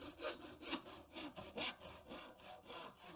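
A hand saw rips back and forth through wood in a steady push-pull rhythm, each stroke a rasping burst, close and moderately loud with no one speaking.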